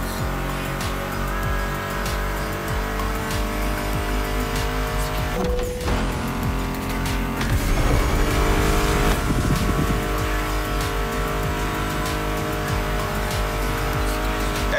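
Racing muscle car engines from The Crew Motorfest, driven in a rear-wheel-drive Denver event, roar continuously and loudly alongside brief tire squeals and a music soundtrack, with no talking.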